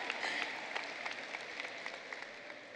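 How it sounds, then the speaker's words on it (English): A graduation crowd at a high school ceremony claps for the class of 2023, a soft, even wash of many hands clapping, heard from a distance in a large hall. "Y'all can clap."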